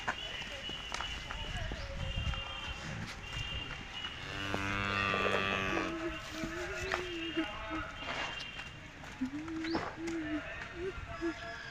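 Cows moo several times with low drawn-out calls, one long moo in the middle, while people talk nearby in a home farmyard with four cows, freshly washed that morning.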